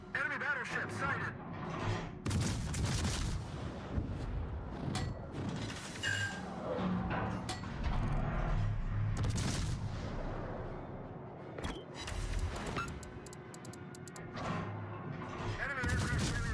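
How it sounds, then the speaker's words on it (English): Battleship main battery and secondary guns firing in the naval combat game World of Warships, a dense run of heavy booms and rapid cannon shots layered over continuous battle noise, with a voice talking throughout. "Got all those secondary hits and main battery hits firing at that for Minnesota right now."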